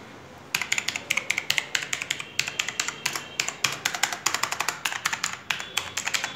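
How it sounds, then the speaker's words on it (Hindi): Rapid, steady typing on a TVS Gold black USB computer keyboard, a dense run of crisp, close key clicks after a brief quiet start, with no voices. "यहाँ पर जैसे आप टाइप कर सकते हैं,"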